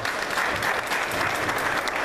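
A short burst of steady applause from the crowd at a candlelight AIDS vigil in Columbus, Georgia, dense and even throughout, with no voices over it.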